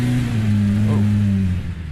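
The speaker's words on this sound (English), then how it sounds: "The engine roar is unmistakable." The Polaris RZR Pro R's high-displacement, high-revving engine holds a deep, loud, steady drone close by, then the pitch dips slightly near the end as the sound eases off.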